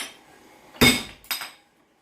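Two sharp metallic hammer strikes land about half a second apart, close and ringing, flattening a metal link for a flower link necklace, with no talk.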